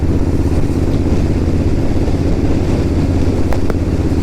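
A Royal Enfield Interceptor motorcycle engine snarls at close range, producing a loud, steady low throb with a rough pulsing beat that holds without a break.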